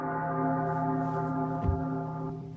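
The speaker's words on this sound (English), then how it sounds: "Stop ringing my bell!" Bells rung from a rope in a small, confined bell loft, heard as a dense, sustained wash of overlapping metallic tones with a dull thump partway through, loud and close with no talking.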